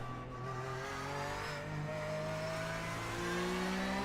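A Porsche 911 GT3 Cup race car in the iRacing simulator holds a steady, loud engine drone with shifting tonal harmonics that slowly rise and fall. No one speaks.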